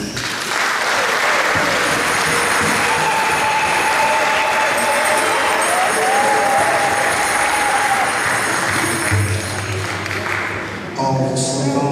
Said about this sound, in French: Et nous la traduisons par cet applaudissement